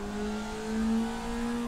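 Formula Vee race car engine revving hard at the top of second gear, a steady, loud, sustained drone from on board with no talking.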